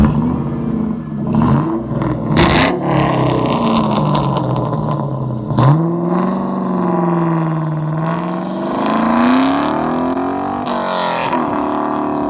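A 2003 Ford Mustang Mach 1 engine revs hard, rising and falling in pitch through several loud throttle bursts, with a deep, rumbling exhaust close by.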